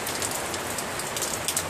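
Steady rain pattering on a surface, a continuous dense hiss of drops close by with no voices.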